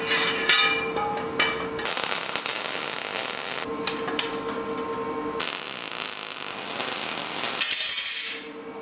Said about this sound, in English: So we have more welding power.